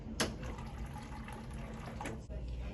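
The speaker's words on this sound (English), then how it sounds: "Now you can go ahead and dispense water from the water cooler just like before." Water pours from an Avalon freestanding water cooler, a steady close splashing fill lasting a few seconds with brief clicks at the start and near the end.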